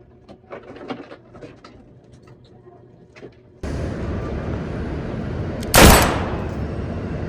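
In a short film, a single loud gunshot cracks out sharply near the end, after a quiet stretch with faint voices and a shift to a busier background.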